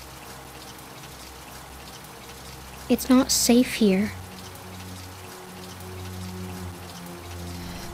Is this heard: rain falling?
yes